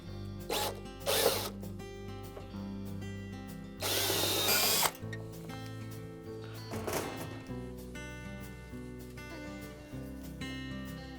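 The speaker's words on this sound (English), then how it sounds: "drill out the rivets that are holding those onto the front bulkhead" Several short bursts of a power drill with an 1/8-inch bit whining through metal rivets on a Maytag dryer's front bulkhead, separated by pauses filled with faint clicks and handling noises.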